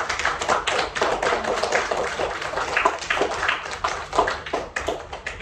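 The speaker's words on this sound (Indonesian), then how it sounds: "tepuk tangan untuk kita semua yang sudah menjawab" A group applauds in a classroom quiz session, with dense, continuous clapping from many hands at moderate loudness, steady throughout with no talk over it.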